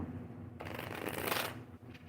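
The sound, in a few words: tarot cards being shuffled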